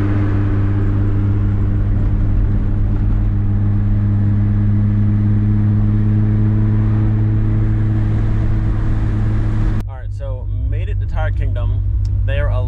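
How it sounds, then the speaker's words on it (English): A race car idling loudly after a cold start, its deep steady engine drone filling the clip nearly unbroken, with someone talking over it toward the end. "This car is so loud and cold start"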